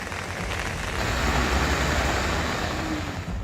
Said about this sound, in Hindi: दिल्ली के पास हरियाणा के गुरुग्राम में आज सुबह से ही तेज बारिश हो रही है।